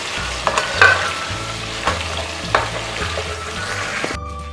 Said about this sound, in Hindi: भुनाई कर लेंगे थोड़ी सी